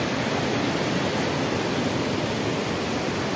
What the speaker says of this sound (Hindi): लगभग 300 फीट के आसपास ऊंचाई है यहाँ, 300 फीट की ऊंचाई से पानी नीचे गिरती है